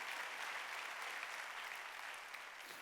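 A congregation applauds during a Korean church Sunday worship service: a steady, even wash of many hands clapping at once, faint and somewhat distant, with no voices over it.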